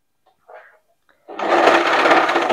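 A sewing machine starts stitching knit fabric for a top, after a couple of faint handling sounds, then runs loud and close in a steady, rapid whirring hum.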